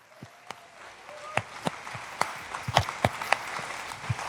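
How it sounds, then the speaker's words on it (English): Scattered, uneven handclaps from a few audience members at a cryptocurrency talk, sharp and distinct rather than a dense roar, picking up slightly in the middle before thinning out. "One more round of applause."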